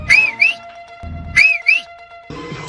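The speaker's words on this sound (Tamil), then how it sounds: "மாமாக்கு எப்பெல்லாம் போர் அடிக்குதோ இந்த விசில் எடுத்து ஊதணும்" A whistle is blown twice in quick double chirps, each a rising then falling shrill tone, loud and close, separated by a pause with faint background noise.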